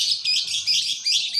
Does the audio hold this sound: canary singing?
yes